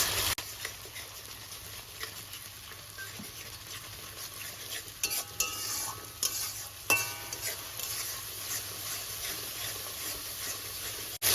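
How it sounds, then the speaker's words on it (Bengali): Soaked spice paste stir-fried over a high gas flame for a lentil and shrimp muittha, with a low steady sizzle broken by clattering metal spatula scrapes against the pan in bursts toward the middle. "সমস্ত মশলাকে গ্যাসের ফ্লেমটা হাই করে খুব ভালো করে কষে নেব"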